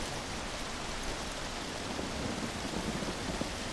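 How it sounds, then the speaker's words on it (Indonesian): Rain in the Amazon survival game Green Hell falls as a dense, steady hiss of heavy downpour, close and even throughout, with no talk. "Deh, pakai hujan, mati nggak apinya?"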